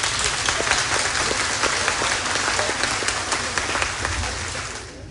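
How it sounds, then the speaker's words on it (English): An audience at a memorial celebration of life breaks into sustained applause, with dense, even clapping from many hands filling the room for about five seconds before fading at the end. "they need a big round of applause from all of you"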